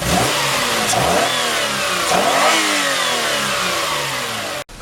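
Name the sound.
car engine revving during used car inspection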